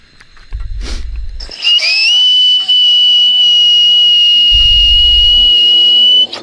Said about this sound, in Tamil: விசில் சவுண்டு தான் கேட்குது.